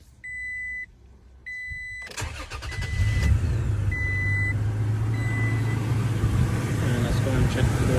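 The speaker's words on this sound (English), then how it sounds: "start the engine and let the oil circulate" A 2022 Toyota Tacoma sounds two chime beeps, then its engine cranks and catches, settling into a steady, close idle that runs to the end.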